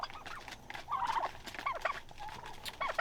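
Traditional commercial-breed turkeys feeding at a feeder outdoors in pasture, with a busy patter of pecking and scratching broken by several short, nasal gobbling calls close by, no one speaking.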